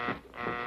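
A proximity alarm buzzing in two loud, harsh electronic pulses with a brief dip between them, close and alone.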